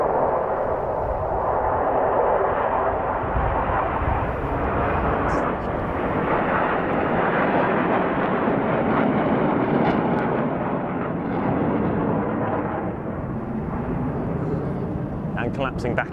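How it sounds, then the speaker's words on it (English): Black Eagles aerobatic jet aircraft in a flying display at the Royal International Air Tattoo, a steady loud roar of jet engines sustained throughout, with a commentator's voice over the engine noise. "That's such a lovely colour of aircraft in these sorts of conditions."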